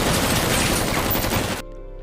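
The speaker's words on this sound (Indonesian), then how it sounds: "Mereka lalu menembaki mobil tersebut." A burst of rapid automatic gunfire rakes a car in a film scene, loud and continuous crackling shots that cut off abruptly into a quieter ringing tail.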